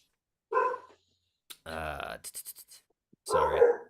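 A dog barks indoors nearby in a few short, spaced bursts, with whining and yelping tones between them and near silence in the gaps.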